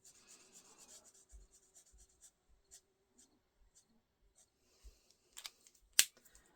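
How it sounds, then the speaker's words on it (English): Felt-tip Stampin' Blends and Stampin' Write markers scratch and rub across paper in short quiet strokes while coloring a fall toile card, with a few sharper taps near the end. "I'm going to use a combo of blends and Stampin' Write markers"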